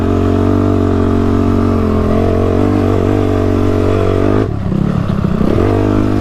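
A dirt bike ridden through sand, its engine droning steadily and close, briefly dipping and easing off near the end before picking back up.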